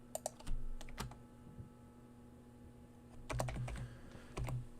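Quiet computer keyboard typing at a desk: a few isolated keystrokes near the start, a long pause, then a brief cluster of quick clicks, close and soft, with no talking.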